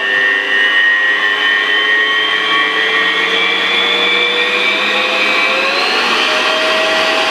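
Electric hand mixer whirring steadily at close range as it beats mascarpone with icing sugar, a continuous high motor whine whose pitch slowly rises as the speed is turned up.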